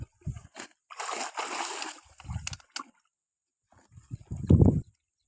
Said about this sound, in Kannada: ಕಡಲೆ ಇಟ್ಟು ಈ ಮೂರು ಹಾಕಿ ಮಿಕ್ಸ್ ಮಾಡ್ತಾ ಇದ್ದೀನಿ